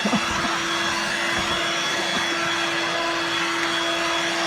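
A Dirt Devil Vibe corded stick vacuum cleaner runs steadily with a loud, constant motor whine and airflow roar, unbroken for the whole stretch.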